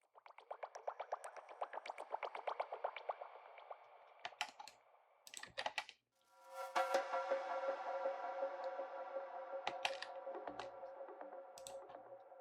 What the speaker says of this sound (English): And some bubbles.